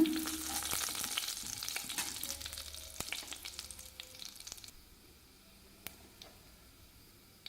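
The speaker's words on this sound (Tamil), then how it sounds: "இப்போ அதே எண்ணெயிலேயே பெருஞ்சீரகம் சேர்த்துக்கிறேங்க." Fennel seeds sizzle in hot oil left over from frying raw plantain, making a close crackling fry with scattered pops and stirring clicks that fade to a quieter sizzle partway through.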